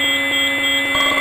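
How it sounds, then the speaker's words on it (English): A fire alarm control panel's alarm bell sounds during a releasing-panel test, with a slow pulse and a horn strobe also active, giving a steady loud ringing tone throughout. "Alarm bell is on, slow pulse. And horn strobe is on."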